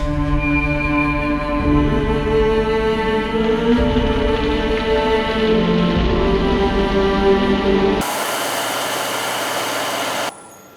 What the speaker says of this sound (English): we're going to turn the speed up to about 2000 RPM on this size of platter.